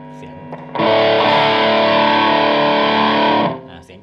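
Electric guitar through a NUX effects pedal set to a high-range, slightly harsh tone rings out as one loud, sustained distorted chord for about three seconds, then cuts off.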